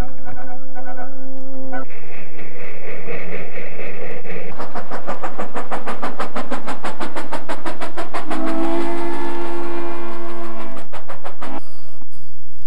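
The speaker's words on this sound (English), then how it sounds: "Hundreds of trains ran day and night." A steam train rumbles past with a rapid, steady clickety-clack rhythm and drawn-out whistle-like tones rising above the rolling noise.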